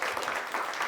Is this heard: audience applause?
yes